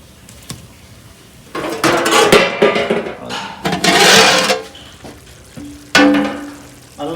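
Village-style boneless mutton fry stirred in a pan, with bursts of loud scraping and clattering against the metal over a low background sizzle, separated by quieter pauses. No one speaks.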